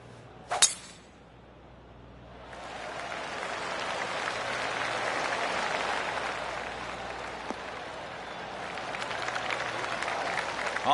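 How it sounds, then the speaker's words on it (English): Spectators around the course in the golf video game PGA Tour 2K25 give soft golf claps, a gentle patter of applause that swells gradually and holds at a moderate, distant level after a brief sharp click at the start. "Oh, I can hear the golf claps around the course."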